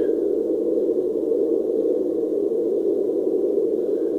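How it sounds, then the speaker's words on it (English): A steady, band-limited hiss from a white noise generator drones on evenly at moderate loudness, a constant sound with no changes or voices. "What you're hearing is a white noise generator."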